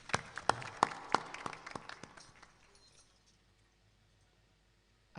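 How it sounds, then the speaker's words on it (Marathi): A small audience at a bhajan performance claps in a brief, scattered burst, the sharp claps thinning out quickly and fading into quiet room noise. "जोरदार टाळ्या वाजवा"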